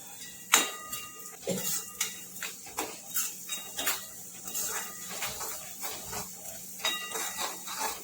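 Close sizzling of onions sautéing with garlic and ginger paste in a hot pan, broken by repeated scrapes and clinks of a spoon stirring at an uneven rhythm.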